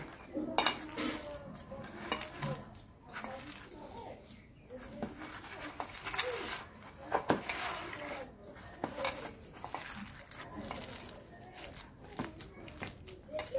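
Jackfruit kofta mixture is kneaded by hand with rice flour, giving a steady run of soft, irregular squishing, patting and light clattering up close, with faint background noise throughout.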